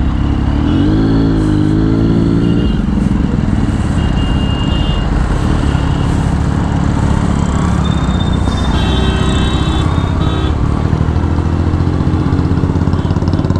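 A Triumph Street superbike rides through heavy traffic in India. Its engine drones loud and steady throughout, with surrounding vehicle noise and brief high horn-like tones from other traffic.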